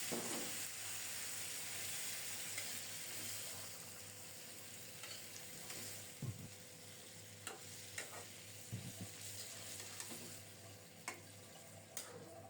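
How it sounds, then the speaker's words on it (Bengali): Spinach frying in a pan with onion and garlic browned until red, giving a continuous soft, hissing sizzle with a few brief stirring knocks and scrapes near the end, fairly quiet and without speech. "পেঁয়াজ রসুন লাল লাল করে ভাজা হলে এখন শাক দিয়ে দিলাম"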